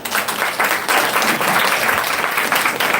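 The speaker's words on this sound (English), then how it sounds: "Let us start the segment 2 with a round of applause for both teams." A quiz audience gives both teams a round of applause, dense steady clapping from a crowd throughout, loud and close.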